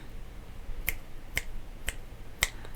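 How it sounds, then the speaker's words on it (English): Four sharp finger snaps at an even pace, crisp and clicky, with a faint hum behind them and no talking. "Hear that snap? That's from the back end."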